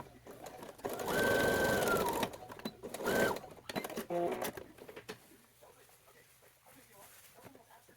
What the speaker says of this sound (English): So right here you see me sewing